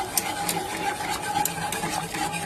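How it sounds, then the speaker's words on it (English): A pot of rich demerara simple syrup is stirred constantly on high heat, giving a steady scraping, swishing rhythm with faint metallic ticks, close and continuous with no voices. "you just kind of constantly stirring, you know, whipping it along so it doesn't stick"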